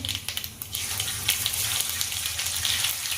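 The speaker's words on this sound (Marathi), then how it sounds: "चांगली तडतडून द्यायचे मोहरी तडतडली की आपण जिरं पण टाकायचं" Mustard seeds splutter and crackle in hot oil while tempering, followed by cumin, for a stuffed capsicum dish; a dense, steady sizzle with quick popping bursts, close and continuous.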